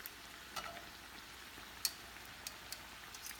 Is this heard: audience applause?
no